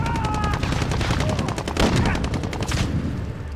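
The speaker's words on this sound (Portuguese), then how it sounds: "Eu dei dois tirinhos, ó." Gunfire in Call of Duty: Modern Warfare, a dense close burst of rapid automatic shots and fusillade lasting a few seconds, then fading out, with faint game voices underneath.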